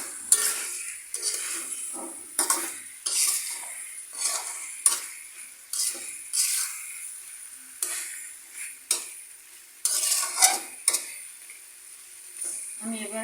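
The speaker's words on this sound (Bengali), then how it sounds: "মশলাটা দিয়ে এবার গোশটাকে ভালো মতো কষিয়ে নেব।" Beef with spices and raw jackfruit is stir-fried in a pan over medium-low heat: a constant sizzle broken by repeated scraping stirs and the clink of a utensil against the pan, close and rhythmic.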